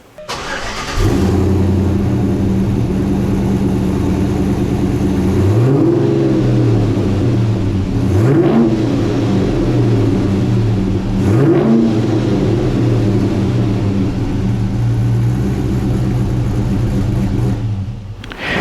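A 1962 Chevrolet Nova convertible's LS V8 engine rumbles steadily at close range while driving, with a few rising revs swelling and falling back, no talking.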